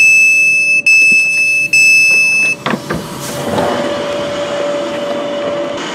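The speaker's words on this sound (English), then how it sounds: "catch that train right there to Rugeley Town" A train sits at Rugeley Town railway station on the North Staffordshire Railway in a train simulator. Loud steady tonal beeps cut in and out over a rumbling hum, then fade into a softer, sustained mechanical drone.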